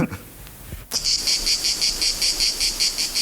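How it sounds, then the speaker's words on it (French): Cicadas singing through an open window on a summer afternoon, a loud, steady pulsing buzz that starts abruptly after a few soft knocks and continues in regular throbs. "Si les cigales te gênent, je ferme la fenêtre"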